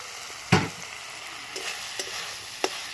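Egg bhujia being stirred and fried together with chow mein in a pan at home, a loud utensil scrape near the start followed by softer sizzling and a few light clinks, close and without talk.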